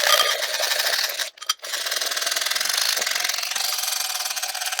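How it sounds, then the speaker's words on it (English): A handheld milk frother whirs steadily and close up while frothing milk with honey for iced coffee, a continuous buzzing drone with one short break before it starts again and runs on. "And then we froth."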